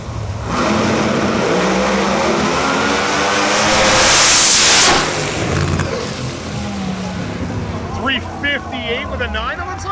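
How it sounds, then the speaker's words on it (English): A screw-blown C7 Corvette pro mod drag car, the R&R Racing car driven by Tommy D'April, roars down the strip at a World Series of Pro Mod qualifying event. A loud, sustained engine blast rises to a peak and then fades away. "a screw-blown C7 Corvette being piloted by Tommy D'April"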